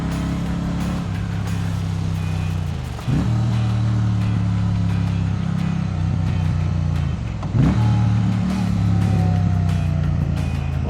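A Triumph Bonneville T100 motorcycle engine drones loud and steady while riding through Chicago streets, downshifting into a turn with a couple of brief dips and rising revs under front braking.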